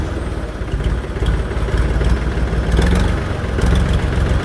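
A tractor engine idles after standing unused for several days in the rain, a loud, steady low chugging throb that runs unbroken throughout.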